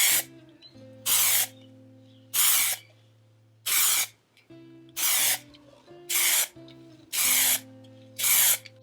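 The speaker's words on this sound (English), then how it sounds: "You don't want to hold the spray in any place. You just want to give it a really light coating." An aerosol can sprays a light sealant coat over inks on a resin geode, giving eight short, loud hissing bursts in a steady on-off rhythm with quiet pauses between them and no talking.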